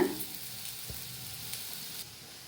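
Bitter gourd fries in a pan with a faint, steady sizzle and a few soft stirring clicks, heard on its own with no voices.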